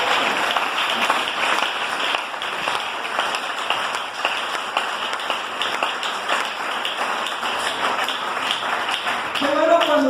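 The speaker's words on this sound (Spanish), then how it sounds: "Démosle un aplauso a ese Señor." Church congregation clapping for the Lord during a sermon, a steady broad wash of applause from the room, moderately loud and sustained, with a voice coming in near the end.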